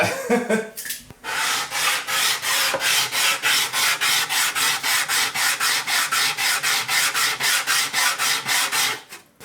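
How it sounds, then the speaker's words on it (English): A sanding block rubbed back and forth over the wooden arm bevel of an acoustic guitar, a close, loud rasping scrape repeating in a fast, even rhythm of strokes, about three per second, with no talk. "I'm gonna switch over to a sanding block myself"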